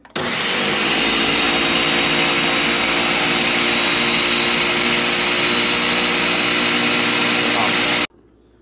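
A countertop blender runs with water and a few drops of dish soap inside, a loud steady motor whir and churning that holds for about eight seconds and then cuts off abruptly.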